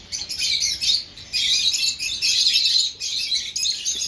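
Caged lovebirds chirping and tweeting in bright, busy bursts with short pauses, close and lively, no talking.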